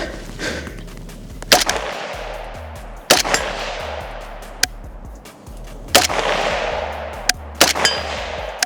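Single gunshots from an AK rifle with a plastic shovel-style stock, fired outdoors: about six sharp, loud reports at irregular intervals, each followed by a ringing tail over steady background rumble.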